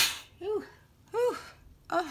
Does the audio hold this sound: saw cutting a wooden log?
no